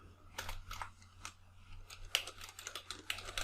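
Quick bursts of keystrokes on a computer keyboard, soft and fairly close, in short irregular clusters with brief pauses, against a low steady hum.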